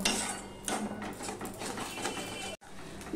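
Masala cooking down with a splash of water in a pan for Bengali chicken kosha, scraped and stirred with a utensil that clinks and knocks against the metal in a steady run, with a brief drop to near silence.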